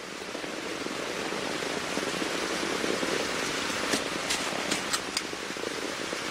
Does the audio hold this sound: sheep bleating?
no